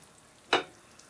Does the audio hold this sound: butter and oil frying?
yes